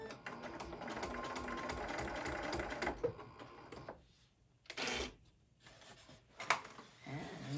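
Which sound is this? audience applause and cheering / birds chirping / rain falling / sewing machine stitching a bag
sewing machine stitching a bag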